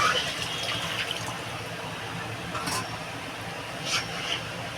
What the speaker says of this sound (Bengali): এবার আমি এই দুধটা ঢেলে দেবো